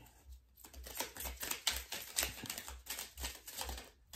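A deck of tarot-style cards is shuffled by hand, a rapid run of crisp riffling and clattering snaps that repeats in bursts, close and fairly loud with no talking.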